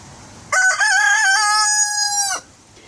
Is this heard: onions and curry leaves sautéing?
no